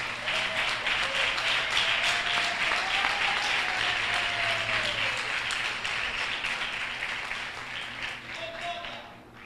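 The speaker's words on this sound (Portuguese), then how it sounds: "Você pode dar um aplauso bem forte para Jesus." A church congregation gives loud, sustained applause that slowly fades, with voices and a sung or spoken tone heard over the clapping.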